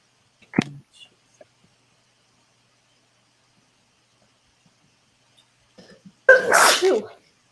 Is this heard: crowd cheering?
no